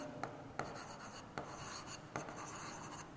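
Chalk or marker writing on a board during a geometry lesson, quiet scratching strokes broken by several sharp taps, with no talking.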